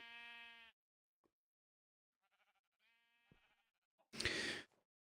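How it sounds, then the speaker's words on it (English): Sheep bleating in the video game Minecraft: one clear bleat at the start, a fainter bleat midway, then a short burst of louder noise near the end, with quiet gaps between. "Sheep are just complaining because,"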